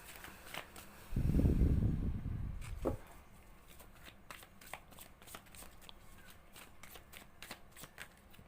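Tarot cards are shuffled in a soft, quick riffle lasting a couple of seconds, then a series of faint, crisp taps and flicks follows as cards are handled and turned over, close and quiet with no talk.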